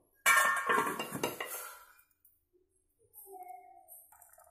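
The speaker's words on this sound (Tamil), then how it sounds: "போட்டு நல்லா மூடி போட்டு கொதிக்க விட்டுடலாம்." A lid set onto a pot of Chettinad chana dal and brinjal curry gives a loud metallic clatter and clink up close, followed by a quiet pause and then faint, light kitchen sounds.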